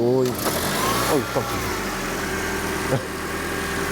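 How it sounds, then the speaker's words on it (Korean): A Lexus ES300h hybrid idles with a steady low hum and a faint whine, joined by a few brief rising tonal sweeps close by. "지금 이 차는 시동이 걸려있는 상태이기 때문에 이렇게 윙하는 공회전음을 간간히 들려주고 있네요"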